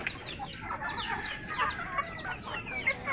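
Native chickens cluck and chatter steadily in a busy small poultry farm, several birds calling over one another at close range with no talking.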